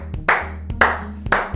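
Three sharp hand claps, roughly half a second apart, sound close and clear in a small room. Each one triggers a Raspberry Pi 3D music visualizer, and a steady low tone hums underneath.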